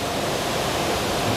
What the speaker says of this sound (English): Stream of river.